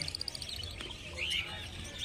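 Pet birds at the Garia exotic bird market give faint, high, rapid chirps and a brief warble against low market background noise.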